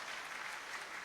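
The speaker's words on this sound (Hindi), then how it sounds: "तो एक बार जोरदार इनके लिए ताली बजाइए" An audience at a public interaction session with a deputy chief minister applauds steadily, a dense, even wash of clapping that stays constant and fairly distant throughout.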